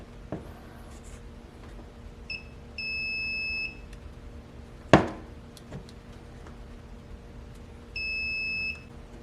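A multimeter beeps twice in continuity tests on the switch of a 1963 Craftsman bench grinder, each a steady high tone lasting about a second, with a sharp click of the probes between them.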